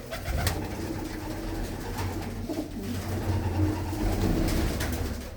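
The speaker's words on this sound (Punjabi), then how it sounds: "ਇਹ ਸਾਰੇ ਵੱਡੇ ਕਬੂਤਰ ਨੇ ਕਬੂਤਰੀਆਂ ਨੇ ਮਿਕਸ ਨੇ" Blue-footed pigeons of mixed sexes coo softly and repeatedly in a loft, with low murmuring calls overlapping against a faint, busy background.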